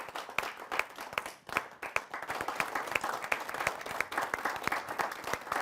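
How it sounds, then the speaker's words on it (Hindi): Sustained applause from a large audience greeting a guest poet at a Hindi poetry gathering, dense clapping throughout at steady moderate loudness with no talk over it. "जोरदार तालियों के साथ हम डॉक्टर साहब का स्वागत करते हैं।"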